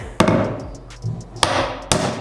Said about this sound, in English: What I'm doing is actually removing all of the nails.